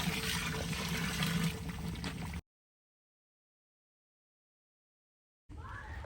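Water being poured into a pot of beef degi gosht, about 2.5 litres, a loud continuous gush for a couple of seconds, then silence, then another brief burst of pouring.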